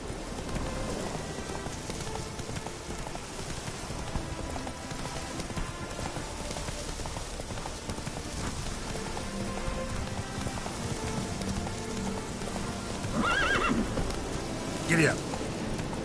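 Roach the horse running in The Witcher 3 video game, with rapid rhythmic hoofbeats over a rain-like background hiss and a brief louder burst near the end, with some talk around it.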